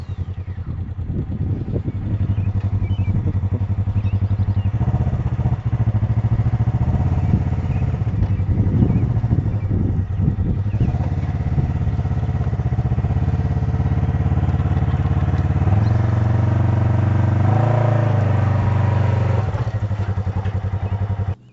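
A motorcycle engine idles and rumbles loudly and steadily as the bike is ridden up onto a trailer, with throttle blips and clattering of the ramp throughout, close and continuous.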